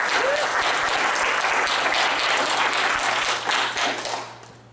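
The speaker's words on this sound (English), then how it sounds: "Give it up for my wife, Ashley." Loud, sustained audience applause and clapping fill a stand-up comedy show, a dense wash of many hands that holds steady before easing off slightly near the end.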